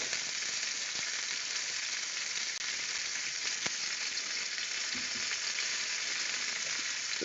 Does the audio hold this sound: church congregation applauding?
no